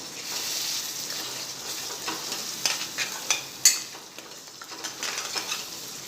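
Poha ingredients, with peanuts added, get stirred and mixed in a pan over steady sizzling frying, with a spoon scraping and clinking in irregular strokes, close up and free of speech.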